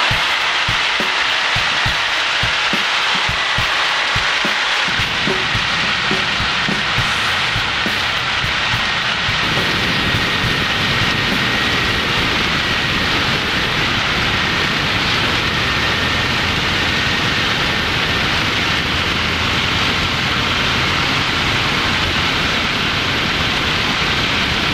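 Piper Cub airplane engine during a wheel landing, a loud, continuous broadband roar and rush of wind that thickens after the first few seconds and holds steady, with no talk.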